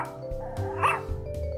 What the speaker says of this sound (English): And Mona, my trusty crime-finding dog.